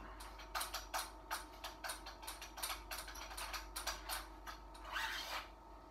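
Magazine nut on an Adler A110 firearm being unscrewed, a close series of quiet ratcheting clicks and metallic scrapes in an irregular rhythm, with no voices.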